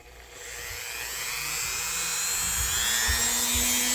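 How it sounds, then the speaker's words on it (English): A wire wheel whirs steadily against the tang stamp of a vintage Hammer Brand Barlow pocketknife, a loud continuous high grinding hiss with a rising motor tone and no talk. "we're going to use our wire wheel"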